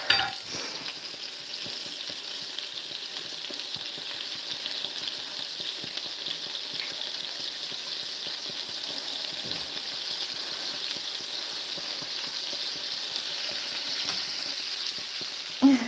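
Burgers frying in a pan give a steady, continuous sizzle with fine crackling, moderately quiet and close, running without break and with no talking over it.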